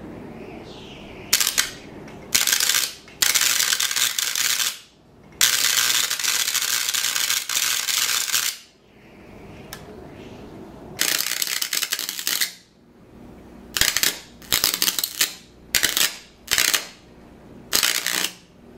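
High-current, high-voltage spark gap discharges fed by alternating mains current, with a magnet placed under the gap: loud, harsh crackling bursts lasting a second or two, repeating with short silent pauses and no talk.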